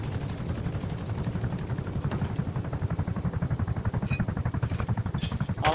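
Attack helicopter in the game Rust, a steady rotor thump with rhythmic chopping pulses throughout, loud and continuous, with a few faint metallic clinks over it near the end.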